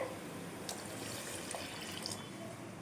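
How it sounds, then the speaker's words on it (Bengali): Water pours steadily into a cooking pot while chicken biryani is being made at home, a faint, continuous, even rush of water with no voices. "তার সাথে আরো একটু জল দিচ্ছি, এটা ফুটে যাওয়ার পরে"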